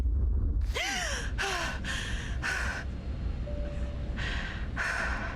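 A female character in a horror video game breathes loudly in a series of rhythmic, heavy gasping inhales and exhales, each a distinct breathy burst set against a low rumble.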